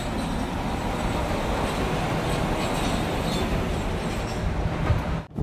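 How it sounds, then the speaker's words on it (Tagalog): An arriving tram gives a loud, continuous rail rumble with rolling wheel clatter and a faint metallic squeal, close by and steady before cutting off abruptly at the end. "ito yung sinasabi ko sa inyo na tram parating na"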